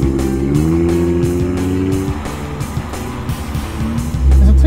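The Kia Kee concept car with its 2.4-litre V6 drives by with a loud engine note that rises and shifts through gears, swelling to a heavy low roar at the end.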